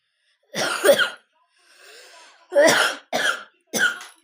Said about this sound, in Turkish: Öksürük tuttu